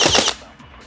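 A short burst from a powerful Nerf AEG blaster on full auto, a loud rapid rattle of shots lasting about a third of a second close by, then quickly fading.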